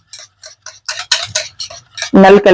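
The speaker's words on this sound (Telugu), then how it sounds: "పెరుగు చక్కగా బీట్ చేసుకోవాలి విస్కర్తో కానీ స్పూన్తో కానీ మంచిగా క్రీమీగా అయ్యే విధంగా ఇలా బీట్ చేసుకోవాలండి" Thick curd being beaten with a whisk or spoon until creamy for dahi vada: a run of brisk, light clicking taps and scrapes against a bowl, quick and irregular, ending in a louder, denser burst of strokes.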